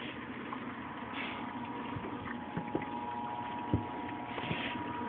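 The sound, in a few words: keg washer running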